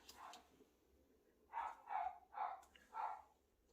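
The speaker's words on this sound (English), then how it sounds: "barking in the background there" Four quick barks from a dog named Buddy ring out in a tight run from another room, faint and distant, after a brief muffled knock, in a quiet indoor craft space where scrapbook pages are being glued.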